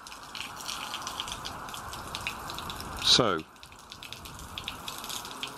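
Water pushed into a pipe flows out in a steady splashing rush, with a short louder surge partway through; a voice briefly speaks over it.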